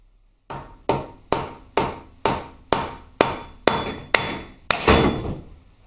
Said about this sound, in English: Just give it a tap with your nylon hammer.